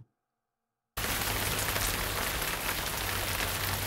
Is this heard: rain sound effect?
yes